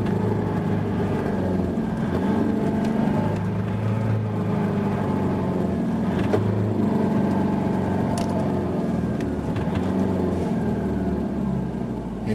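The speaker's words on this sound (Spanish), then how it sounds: "vamos a acelerar el motor antes de soltar el embrague" 4x4 engine held at raised revs before the clutch is let out, a steady droning hum with a slight wavering pitch, continuous and moderately loud throughout.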